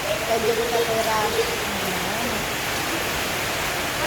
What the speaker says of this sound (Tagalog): Napaka maulan po dito mga kajali.